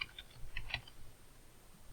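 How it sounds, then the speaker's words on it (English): Quiet typing on a computer keyboard, a short run of soft clicks and taps over about two seconds, faint and close, with no voices. "you just start typing in"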